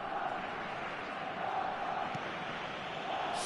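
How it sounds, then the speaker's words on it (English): Stadium crowd murmuring and swelling in an eFootball video game match, a dense, steady roar of many voices filling the background without any single shout standing out. "the crowd are reacting to that now"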